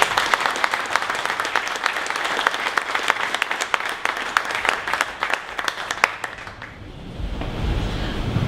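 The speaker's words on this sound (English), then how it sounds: "So a round of applause for Matt." An audience at a Dallas entrepreneur meetup applauds a returning alumnus, a dense burst of clapping that fills the room for several seconds before thinning out into quiet room tone.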